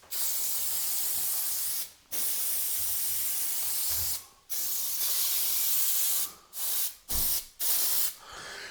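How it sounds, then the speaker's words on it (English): Bursts of hissing spray adhesive from an aerosol can during room plastering, long sustained blasts at first, then several shorter quick spurts with brief pauses between. "Spray adhesive."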